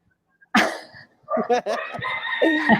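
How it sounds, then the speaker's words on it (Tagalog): Chickens cluck and a rooster crows nearby, loud and close, with short squawks followed by a long, drawn-out crow. "napapansin ko maraming manok dyan, Tutor Jen."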